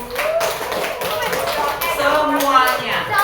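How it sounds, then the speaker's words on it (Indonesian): Classroom of children clapping together for a group about to present, a steady patter of small hands close by with young voices chattering over it throughout. "Tepuk tangan untuk kelompok 2 dulu."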